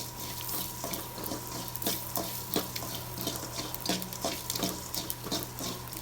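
Coriander seeds and cumin roast in a little oil in a pan, producing a continuous close hiss broken by regular scraping ticks as they are stirred.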